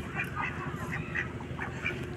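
Several ducks quack repeatedly in quick bursts, nasal calls overlapping at close range over a low background rumble.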